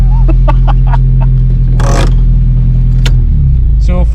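An old Nissan Sunny drives along with a loud, steady low engine drone throughout, scattered with short rattles and a brief noisy scraping burst as it slows under braking, while voices talk over it.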